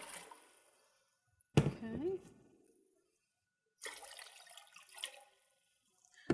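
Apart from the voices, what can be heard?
water poured into a slow cooker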